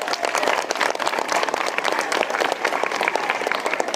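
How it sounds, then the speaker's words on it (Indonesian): Audience applause fills a school event at a state senior high school, dense steady clapping from a crowd sustained throughout with no pauses. "Tepuk tangan dulu, tepuk tangan."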